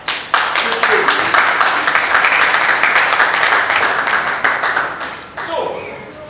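An audience at a Nigerian technology conference bursts into clapping, a sudden loud onset of many hands that holds steady for several seconds, then thins and fades with a brief renewed flurry near the end.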